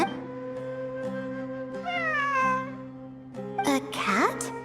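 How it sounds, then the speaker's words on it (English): A cat meows in the video game Genshin Impact during a lunar event, with two drawn-out mews and then a sharper cry over steady tonal game music, fairly quiet and without talk over it. "It really is a cat."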